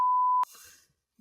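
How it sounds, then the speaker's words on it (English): A loud, steady censor beep covering swearing lasts under half a second, then cuts off into a brief burst of noise and silence. "Sorry, Zach, for all the beeping"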